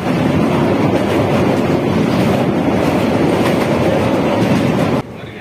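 A train runs steadily on the rails near Cuttack station, giving a loud, continuous rumble with a rattling clatter that holds for about five seconds before dropping suddenly to a quieter hum.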